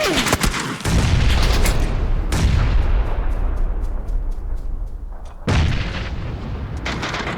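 Gunfire and a booming blast in the battle royale game PUBG, with bursts of loud shots and a grenade-like explosion rumbling and decaying, close and heavy throughout.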